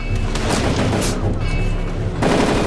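Automatic weapon fire in the World War I-era shooter Darkest of Days, rapid bursts of gunshots rattling in quick succession, loud and dense, with a heavier burst at the end.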